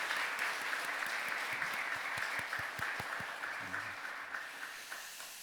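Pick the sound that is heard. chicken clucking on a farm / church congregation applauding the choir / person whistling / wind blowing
church congregation applauding the choir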